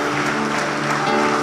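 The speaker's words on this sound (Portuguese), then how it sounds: "Agora, em nome de Jesus, aplauda a Deus e glorifique." A church congregation applauds during a worship service, a dense, continuous wash of many hands clapping together, loud and close, with no individual voices standing out.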